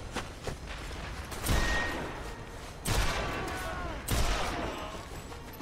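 Pistol shots in the WWII sniper game Sniper Elite V2 at the Tiergarten Flak Tower: three loud, sharp gunshot bursts spaced about a second apart, each with a booming tail, over steady ambient game noise.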